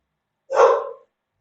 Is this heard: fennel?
no